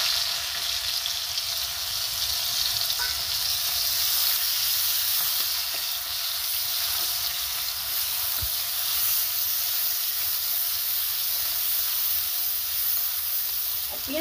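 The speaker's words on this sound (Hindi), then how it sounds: "प्याज को गोल्डन ब्राउन होने तो फ्राई करेंगे" Bay leaf and sliced onion fry in hot oil in a kadhai, giving a steady, loud sizzling hiss that holds without a break from start to finish, with no talk over it.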